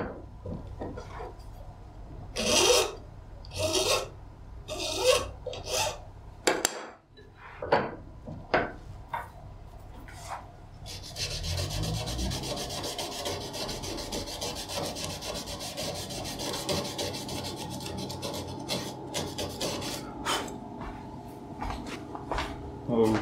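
Sanding a bevel onto the edge of a guitar nut, with short rubbing strokes and taps at first, then a steady continuous close scraping rasp for the second half.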